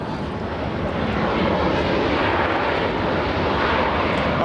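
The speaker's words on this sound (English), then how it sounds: "What did you think of the sound from these incredible helicopters flying right" Heavy Super Stallion military helicopters pass over LAX, a loud, continuous broadband roar of rotors and turbines that swells slightly and holds steady, close overhead with no talking.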